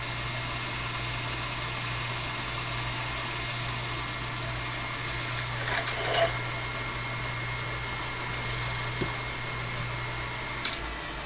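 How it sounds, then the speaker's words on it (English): A drill cuts a 2 1/4 inch hole for a hair dryer bracket, giving a steady whirring hum for about four seconds before it winds down to scattered clicks and quiet. "We're actually going to drill, this is going to be basically about a 2 1/4 inch hole here"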